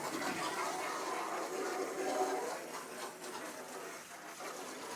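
Jet-spray hose nozzle washing spilled honey off a truck in a yard, a steady broadband hiss of water spray that swells and eases slightly throughout, no talking.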